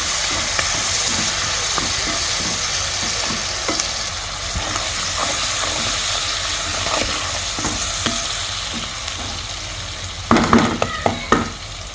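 Chopped onion and sliced green chili with salt fry in soybean oil in a cooking pot, a steady close sizzle broken by spoon stirring scrapes and clinks, with a burst of louder stirring near the end.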